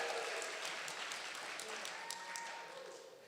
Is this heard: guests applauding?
yes